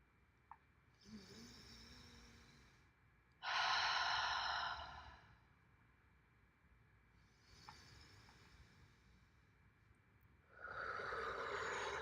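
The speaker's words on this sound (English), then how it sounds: "Okay, do 6 deep breaths with me." A person takes slow, deep breaths close to the microphone: two long drawn inhales or exhales, each lasting a couple of seconds with quiet gaps between, the second and fourth louder and breathier.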